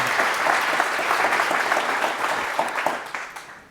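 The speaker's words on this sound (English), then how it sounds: "Let's give a round of applause for our panel." A panel on criminal justice reform receives sustained audience applause, a dense, steady wash of clapping from a large crowd that thins slightly toward the end.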